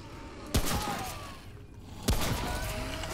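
Two sharp gunshots about a second and a half apart, each a loud crack with a short ringing tail, fired during a Remnant: From the Ashes match on Nightmare difficulty over a steady game background.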